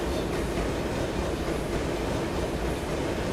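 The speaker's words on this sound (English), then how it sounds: "I recorded these straight off of coal trains going through here" Custom coal train sounds recorded from real coal trains, played in the Trainz video game: a dense, continuous rumble and clatter of rolling railcars, loud and steady with no speech.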